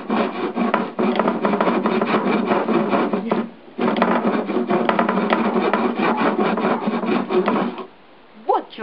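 A dull hand saw rasps steadily back and forth through wood in quick, even strokes, pausing briefly twice before resuming, with faint talk at the end.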